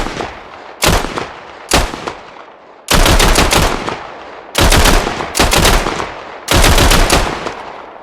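SKS rifle fire in the video game Squad, several loud bursts of rapid shots in separate strings with brief gaps between, close and dominant with no talk.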